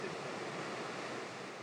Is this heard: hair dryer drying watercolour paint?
no